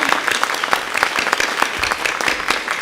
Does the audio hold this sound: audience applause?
yes